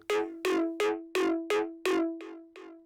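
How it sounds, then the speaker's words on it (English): Eight bright plucked synth notes in a repeating pattern, each with a short, subtle ping-pong delay echo trailing after it, the final two quieter and softer. "added a ping pong delay subtly"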